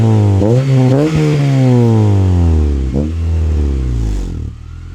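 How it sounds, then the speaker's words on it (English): A ninth-generation Honda Civic Si with a newly fitted exhaust idles loudly and close, then revs up and down several times with a deep, throaty exhaust note before settling. "we'll let it warm up a little bit before we give it some revs"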